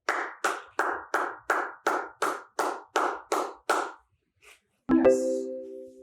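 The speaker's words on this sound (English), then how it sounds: "Sit for 5 seconds while you clap your hands." Hands clap eleven times in a steady, even rhythm during a dog relaxation training exercise, each clap sharp and close, followed by a short pause and then a ringing tonal sound.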